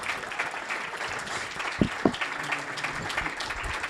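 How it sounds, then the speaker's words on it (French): Audience applause at a French-language talk show or podcast taping, a steady patter of clapping with two sharper bursts near the middle, fairly loud throughout. "on peut lui donner une bonne main d'applaudissement"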